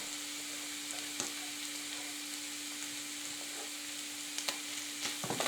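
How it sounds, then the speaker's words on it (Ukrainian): Honey mushrooms and onion frying in a pan give a steady close sizzle with a few light clicks of stirring near the end. "Ось в такі опеньки вже можна додавати і цибулю."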